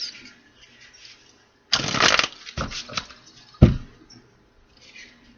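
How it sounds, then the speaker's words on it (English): Cards being shuffled close up, a couple of quick riffling bursts and a final snap, with quiet room noise between. "Let's do 2 more shuffles."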